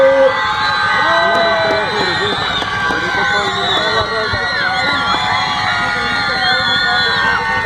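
A crowd cheers, whoops and shouts loudly and continuously at a motorcycle sound event, with children's voices in the mix and no clear break.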